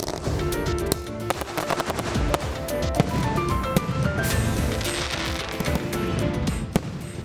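Green firecrackers burst in a dense, continuous crackle of rapid sharp pops and bangs for several seconds, loud and close, with no talking over them.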